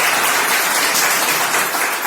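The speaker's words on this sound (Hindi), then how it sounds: "मैं चाहूँगा आप तीनों ऑर्गेनाइजेशंस के लिए एक जोरदार तालियों से एक बार।" Loud, steady applause from an audience at a Thalassemia Day event in a hospital, sustained clapping filling the whole moment without voices.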